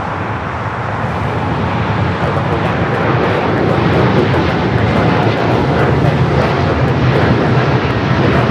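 An airliner at LAX, a loud continuous jet engine roar filling the whole stretch with a steady broadband rumble, and faint voices under it.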